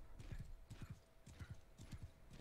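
Horse hooves gallop in Bannerlord, a fast rhythmic clip-clop of paired thudding strikes repeating steadily at close range.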